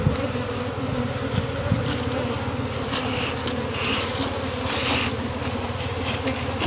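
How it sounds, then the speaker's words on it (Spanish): Dense, continuous buzzing of a honeybee swarm on a wooden block, a steady droning swarm close by with no voices. "todavía toca sacudirle las abejas que están en el tarugo"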